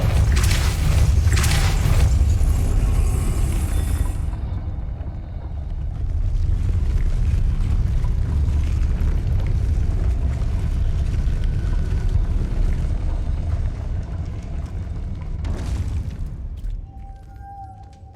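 A Depulso force spell cast in Hogwarts Legacy, a heavy magical whoosh and boom over low rumbling game ambience, loud and close, followed by further impacts and a sharp burst near the end.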